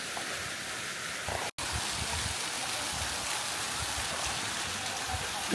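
A stream flows steadily near Sille village in Konya in winter, a continuous broadband rush of running water that stays loud and even throughout, with one brief dropout partway.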